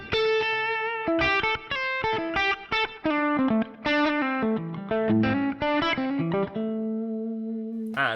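Electric guitar played through a Fractal Hot Rodded Marshall amp model, an ODS-style overdrive with a Marshall tone stack: a quick run of distinct notes, then sustained ringing chords fading out, loud and close.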